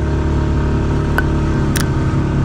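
A motorcycle engine idles steadily up close with a smooth, even hum after a fresh oil change, loud and continuous with no talking over it.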